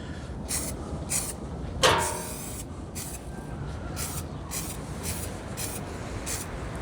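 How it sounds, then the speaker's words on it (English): Short bursts of adhesion promoter sprayed from an aerosol can onto vinyl sneakers, a steady series of brief hissing puffs, close by and evenly paced, with no talking. "Let's get the adhesion promoter going. This isn't gonna need much. So I'm just gonna spray."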